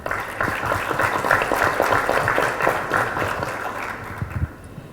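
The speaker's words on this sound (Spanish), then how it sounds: "para quien pedimos un aplauso" Audience applause at the opening of a cattle-raising training session at a university agronomy faculty: steady, dense clapping from a crowd that holds for about five seconds, then thins out near the end.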